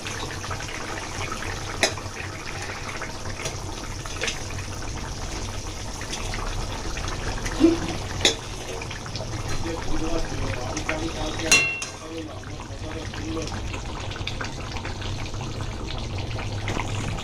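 A fish curry gravy with bhola fish rolls at a steady boil in a pan as the fish pieces go in, making a continuous close bubbling hiss with a few soft knocks.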